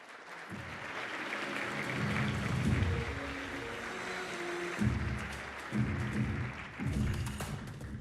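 An audience at the FIFA World Cup 2026 match schedule reveal applauds to welcome FIFA President Gianni Infantino, a broad wash of clapping blended with loud, pulsing music throughout.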